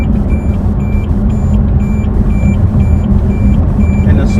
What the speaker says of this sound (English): You will hear that beep for as long as the vehicle is in the blind spot